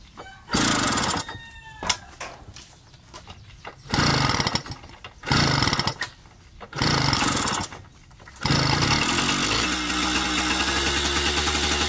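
A small Yamaha V50 outboard motor, fed gasoline directly, sputters through several short bursts, then catches and runs steadily with a loud, buzzing drone.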